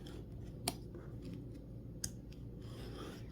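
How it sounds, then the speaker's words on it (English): Scissors cut fabric for foundation paper piecing, giving two short, crisp snips against a quiet background hiss, close up and alone. "then you can just fold it right back and cut this fabric off."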